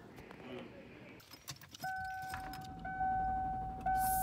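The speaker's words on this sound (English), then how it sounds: "My sister's trying to get her car started." A car's engine is cranked repeatedly by someone struggling to start it, with keys jangling nearby and a steady electronic chime sounding through the attempts; faint background voices are present early on.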